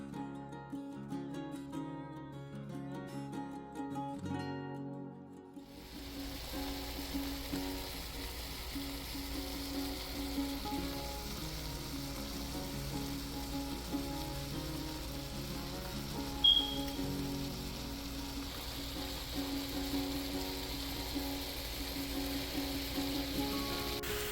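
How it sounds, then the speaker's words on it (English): Pork neck bones sear in a pot on top of the stove, giving a steady soft sizzle and crackle that runs continuously, with faint background tones fading out early. "My neck bones have been searing now for about 5 minutes"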